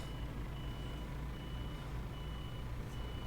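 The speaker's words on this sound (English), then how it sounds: "Parking brake off. Let's reverse out of here." A truck reverses in Euro Truck Simulator 2, its steady reversing beeps repeating over a low, constant engine drone, fairly quiet and with no talking.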